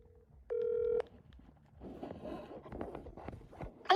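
Outgoing phone call to an AI-powered sales voice line: a single steady electronic ring tone lasting about half a second, followed by faint line noise and shuffling.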